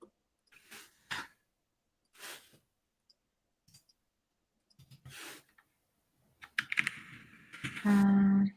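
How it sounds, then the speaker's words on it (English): Scattered bursts of computer keyboard typing and clicks come through as a developer debugs code, with quiet pauses between them and a brief throat clearing. A louder buzzy tone closes the clip. "I was typing"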